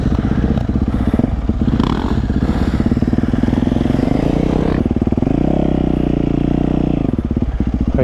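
A dirt bike engine lugs at low revs while the rider slips the clutch, a loud, close, throbbing chug that rises and sags in pitch, with clattering and scraping mixed in.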